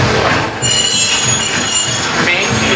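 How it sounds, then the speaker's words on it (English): A Walt Disney World Railroad train rolls loudly close by in reverse, its wheels squealing in a steady metallic screech over a continuous rumble. "This train will be moving in reverse."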